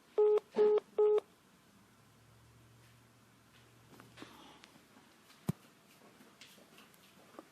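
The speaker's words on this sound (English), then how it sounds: "Yeah. I lost you there, Dick. What was the lady? Yeah, that thing went dead" Telephone line gone dead during a call, with three short repeated busy-signal tone bursts at the start, then a quiet line with faint clicks and a sharp tick.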